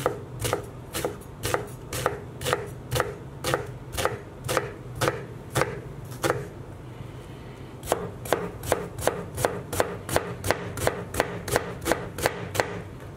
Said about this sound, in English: we just want to finely chop our onion